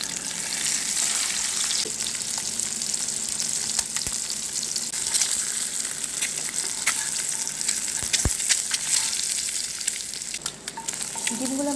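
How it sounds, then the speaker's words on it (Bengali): Eggs fry in hot oil in a pan until deep brown, a steady, close sizzle throughout with occasional sharp clicks and scrapes of stirring. "এবার এই ডিমটাকে আমি একটু মেখে নিয়ে তেলে একটু ডিপ ব্রাউন করে ভেজে নেব"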